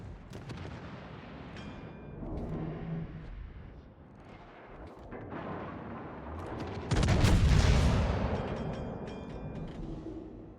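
Naval gunfire from a Tier X Soviet cruiser, the Sevastopol, in World of Warships: heavy booming salvos and rumbling impacts, with the loudest blast swelling around the middle and a long rolling decay afterward.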